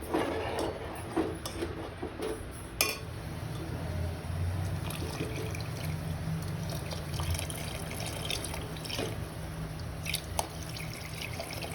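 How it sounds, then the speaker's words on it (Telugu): Water is poured into a pot of Telugu-style fish curry (chepala pulusu) on a stovetop, a steady trickling, dripping flow with occasional clinks, fairly close and moderate in level, with no talking. "మనకు పులుసు ఎంత కావాలో మనం అన్ని వాటర్ యాడ్ చేసుకోవాలి"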